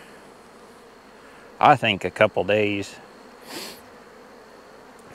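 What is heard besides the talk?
honey bees buzzing around a hive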